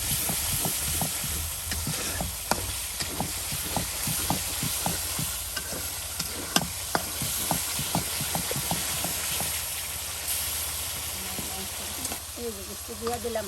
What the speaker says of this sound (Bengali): দেখুন সকল প্রকার বাটা মশলা, গুঁড়া মশলা সব কিছু একসাথে দিয়ে আপনার কত সুন্দর করে যে মশলাগুলো কষিয়ে নেওয়া হচ্ছে